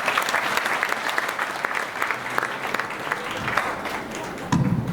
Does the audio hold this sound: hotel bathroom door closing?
no